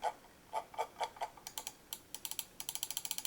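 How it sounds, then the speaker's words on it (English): A Dark Project Novus/Nexus gaming mouse scroll wheel rolled through its notched steps and clicked, giving crisp, close plastic ticks that start slow and evenly spaced, then speed up into rapid clicking runs. "Scroll wheels got nice steps, but this time the click is slightly lighter too"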